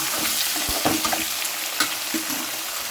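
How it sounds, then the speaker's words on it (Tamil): Chopped small onions and garlic fry in a hot pan, giving a steady close sizzle with occasional crackles and stirring scrapes throughout. "இந்த ஸ்டேஜில் நாம் அரிஞ்சு வச்ச வெங்காயத்தை போட்டுடலாம்"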